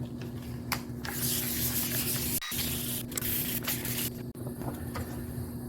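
Sandpaper rubbed over a plastic headlight lens, a close, continuous scratchy hiss broken by brief pauses between strokes, with no talking.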